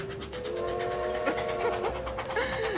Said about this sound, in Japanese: これは蒸気機関車の音ですね。